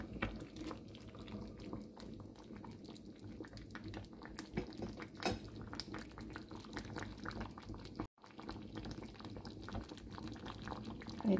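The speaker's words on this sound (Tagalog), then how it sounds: "Haluin lang natin ng kaunti." Fish maw soup bubbles in a pot while being stirred, a quiet, continuous simmering burble with small pops and liquid sloshes, briefly cut off partway before resuming.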